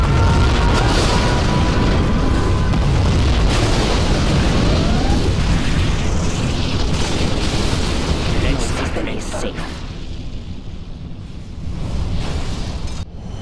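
Massive nuclear missile detonation in Command & Conquer Generals Zero Hour, China faction, a sustained roaring rumble and blast that fills the mix for about ten seconds before thinning into a lower rolling tail, with game voice announcements.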